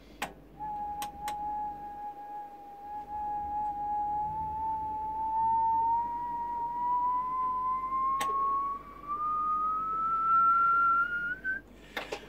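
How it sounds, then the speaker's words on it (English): A single steady whistle is blown into a microphone, its tone sliding slowly upward over several seconds, with a few sharp clicks along the way and a faint hum underneath. "So it went up proportional to the frequency of the whistle that I'm putting into the microphone"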